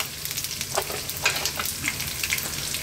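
Curry leaves and cumin seeds crackle and sizzle as they drop into hot oil for a kingfish curry, with sharp spattering pops over a steady hiss, close and moderately loud.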